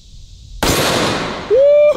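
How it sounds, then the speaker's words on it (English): One sharp, very loud gunshot from a T-Rex revolver, a sudden blast followed by a decaying roar, then a short tonal ringing near the end. "I can't even imagine what it's gonna feel like in this revolver, but let's just go for it"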